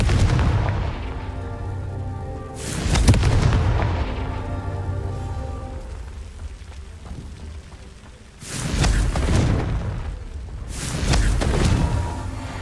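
Booming fiery blasts from a Confringo spell in the Hogwarts Legacy video game, several heavy explosive bursts spaced a few seconds apart with rumbling decay between them, loud and close.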